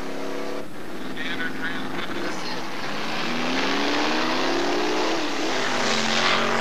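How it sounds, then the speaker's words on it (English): Hot rod drag cars roar down a quarter-mile strip, engines rising in pitch as they accelerate, loud and continuous with a faint voice beneath. "Hot rodders testing their machines on the quarter mile"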